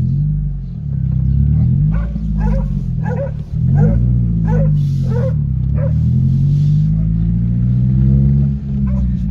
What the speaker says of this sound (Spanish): Ahí va, ojo perro.